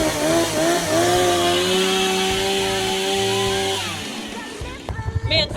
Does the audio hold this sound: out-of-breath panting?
no